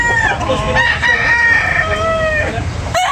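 Roosters crow at a gamefowl sale in Tabunok, Talisay, where white Kelso birds are offered; loud, drawn-out overlapping crows fill the clip close by, with a dense low murmur of activity underneath.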